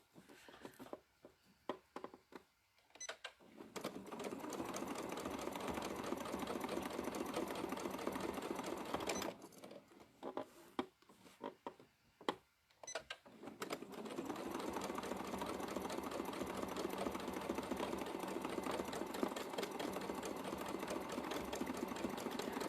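A domestic sewing machine stitches in free motion quilting along a marked line, running in steady sustained bursts with brief stops and restarts between them, close and fairly quiet with no talking.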